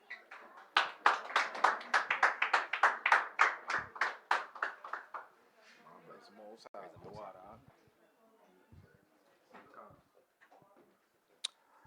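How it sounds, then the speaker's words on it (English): Loud audience applause in a congregation welcoming a speaker at a Sabbath gathering, a dense burst of many hands clapping for about five seconds before fading into scattered claps and murmuring voices. "Let's give the Most High another round of applause"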